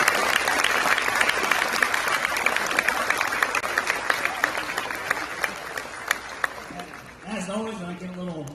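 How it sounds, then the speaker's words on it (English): A Veterans' Day crowd from Barton County and nearby communities gives a long, steady round of applause for veterans, the clapping thinning gradually before a speaker's voice takes over at the end. "Big round of applause for them."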